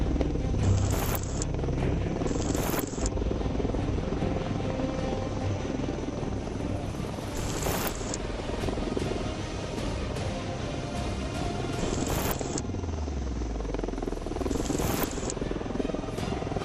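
HAL Prachand light combat helicopter flying, a steady, loud rotor and engine roar that holds for the whole stretch, with periodic sharper whooshing bursts, the pitch sinking near the end as it passes.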